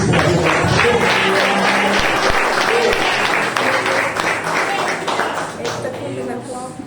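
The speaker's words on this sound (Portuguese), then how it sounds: "Você pode aplaudir Jesus" Congregation in a Brazilian evangelical church service applauding Jesus, dense sustained clapping from many hands that fills the room, with talk and murmuring mixed in, fading slightly toward the end.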